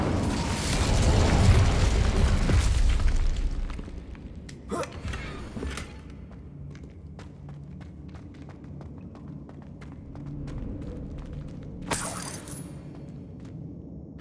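Incendio fire spell blasts in Hogwarts Legacy: a loud, roaring burst of flame in the opening seconds, a sharp crack near five seconds, then quieter ambience and another bright whooshing burst near twelve seconds.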